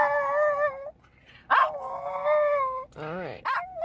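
A dog in the mountain town of Greer, Arizona gives drawn-out, whining howl-like barks, loud and close, in two or three long tonal bursts.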